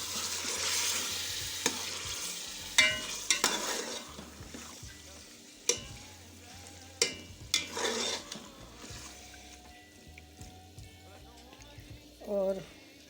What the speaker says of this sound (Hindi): देख सकते हैं मैंने इसके अंदर पालक शामिल कर दी है और उसको हम अच्छी तरीके से कर देते हैं बीच में मिक्स।